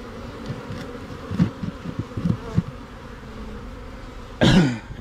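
A steady hum of buzzing honeybees from a swarm in a tree fills the air throughout, with a few nearby thumps and a loud rustling burst near the end as bees go into a box.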